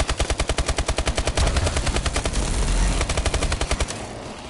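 Rapid machine gun fire in a video game rattles in a loud, even stream of close shots that thickens into a dense barrage, then trails off at the end.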